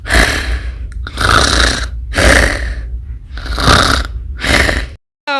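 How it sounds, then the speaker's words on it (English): A man snores loudly and close up, five long rasping breaths in a slow steady rhythm, each roughly a second long with short gaps between. "For our third most annoying sound, we have this guy snoring!"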